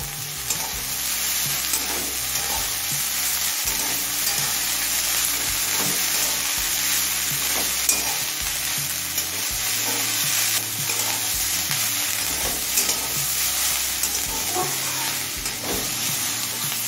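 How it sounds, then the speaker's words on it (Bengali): Drumstick flowers being stirred into fried vegetables in a pan, with a steady loud sizzle and repeated scraping stirs throughout, no voices. "সজনে ফুলটা দিয়ে সমস্ত সবজির সাথে ভালোভাবে নাড়াচাড়া করে মিশিয়ে নিয়েছি"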